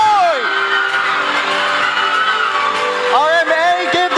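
An awards-night crowd at the CPU Sigrab Film Festival 2024 whoops and cheers loudly for a screenplay winner, sustained close shouting with a second surge of yells near the end.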